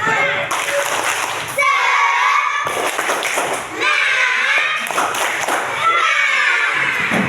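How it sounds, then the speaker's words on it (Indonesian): Children in a primary school classroom play the tepuk semangat clapping game, with quick rhythmic claps and thumps in short bursts under loud group chanting voices, close by and filling the room. "Tepuk semangat, biar anak tambah semangat."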